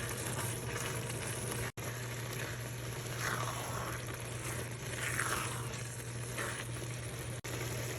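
A vegetable filling for stuffed peppers sizzles and simmers in a pan on the stove, giving a steady soft crackling hiss with no talking.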